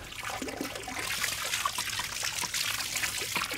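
Water trickling and pouring steadily into a small frog pond to top it off, a continuous soft splashing stream at close range, fairly quiet and without talk.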